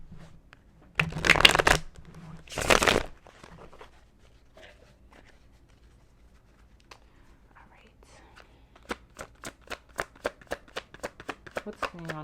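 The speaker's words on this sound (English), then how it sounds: "Let's give one more shuffle." Two brisk riffle shuffles of a card deck, close and crisp, followed by a quieter series of sharp, evenly spaced taps like cards being squared or dealt.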